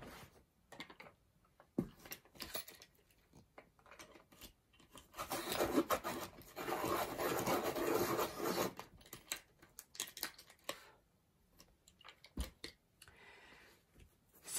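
A black Prismacolor colored pencil is sharpened, giving a dry rasping grind that builds into a steady burst of scraping mid-way, framed by lighter scratches and taps, close and moderately quiet.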